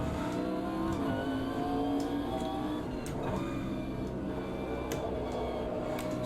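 A 1990s Le Mans race car in the Automobilista 2 racing game, its engine droning and revving from the cockpit, with gear shifts and other cars' engines audible around it.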